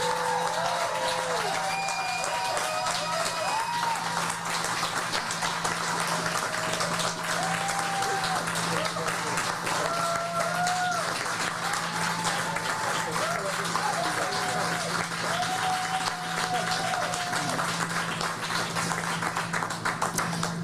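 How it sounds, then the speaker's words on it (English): Sustained audience applause for the leader of the Green Party of Canada at an evening political event, a steady dense wash of clapping lasting throughout, with background voices mixed in. "please join me in applause for the leader of the Green Party of Canada, Annamie Paul."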